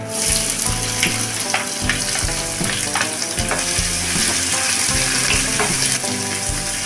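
Urad dal frying in hot oil for a South Indian side dish, a loud, dense, continuous crackling sizzle, close up, with stirring scrapes and clattering underneath.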